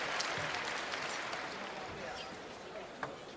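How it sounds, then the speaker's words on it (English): Warm, sustained applause from a table tennis arena audience, fairly distant, with a few sharper claps standing out as it gradually tapers. "More than polite applause, enthusiastic applause, I would say."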